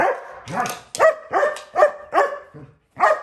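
A dog barks repeatedly at close range, a quick series of sharp, loud yaps with brief gaps between them.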